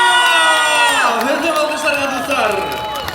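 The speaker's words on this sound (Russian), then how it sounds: "Друзья, еще громче аплодисменты!" Loud concert crowd at a show in Ufa, cheering, whooping and applauding together in a dense roar, with a sustained shouted vocal tone sliding over the noise.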